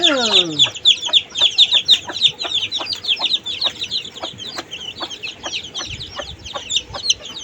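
A hen clucks repeatedly beside a brood of many chicks on a rooftop garden, her steady low clucks set against a dense, continuous chorus of high peeping from the chicks, all close and fairly loud.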